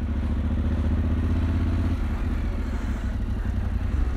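A Honda Transalp 750 or Yamaha Ténéré 700 motorcycle creeps through town at about 5 km/h, its engine a steady low idle-like rumble close by, with no talk over it.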